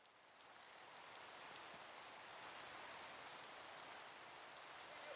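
Steady rain in the Minecraft video game, a continuous even hiss of falling drops that fades in slightly at the start and then holds at a constant level with no talking.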